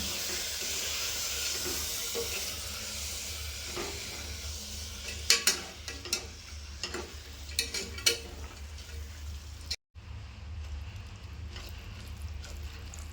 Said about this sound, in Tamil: இந்த சமயத்தில் இந்த ஊற வச்சுருக்கிற இந்த கடலையும் அரிசியும் இதில் சேர்த்துக்கலாம். நல்லா கலந்து விட்டுக்கலாம்.